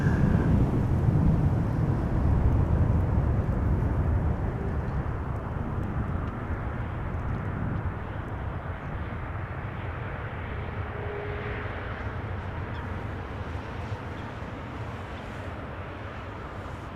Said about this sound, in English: Right, EasyJet A319.